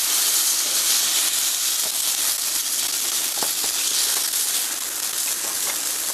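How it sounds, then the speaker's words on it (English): Cajun boudin and pork sausage slices browning on a hot griddle give off a steady, dense sizzle with scattered small pops, continuous and fairly close, with no voices. "this Lazy Caveman Boudin is browning very nicely here, as you can see. It's sizzling and popping"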